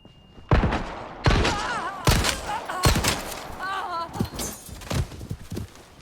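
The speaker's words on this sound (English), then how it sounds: "it took 4 shots from the SG-09 to defeat a standard Ganado in standard mode with no upgrades or parts" SG-09 pistol shots in Resident Evil 4 Remake fired against a standard Ganado, several sharp loud cracks at irregular intervals mixed with enemy grunts and game effects.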